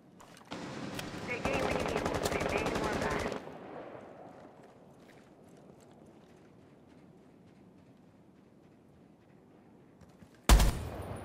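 Rapid automatic gunfire in Rainbow Six Siege on a foreign server, a dense burst of about two seconds followed by quieter game ambience, then a sharp loud shot near the end.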